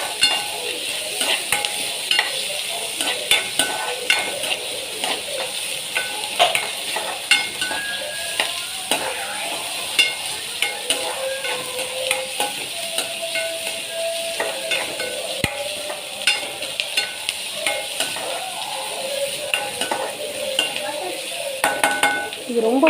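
Vegetables sautéing in hot oil for egg noodles in a home kitchen, a steady close sizzle with repeated scraping and stirring of a spatula against the pan, no voices.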